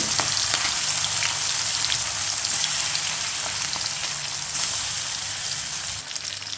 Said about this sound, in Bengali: এই মাছটা আমি তেলের মধ্যে দিয়ে হালকা করে একটু ভেজে নেব।